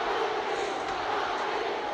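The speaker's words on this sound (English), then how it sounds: "And you can hear the chant in the background." A huge arena crowd of more than 21,000 at Madison Square Garden chanting for Muhammad Ali during his fight with Joe Frazier, a distant, continuous roaring wash of voices with no distinct claps or words.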